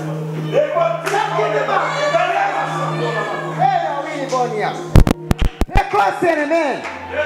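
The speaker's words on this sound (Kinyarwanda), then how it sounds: "Dukomere Imana amashyi menshi cyane." A church congregation breaks into a burst of sharp applause near the end, following a stretch of loud preaching or singing voices.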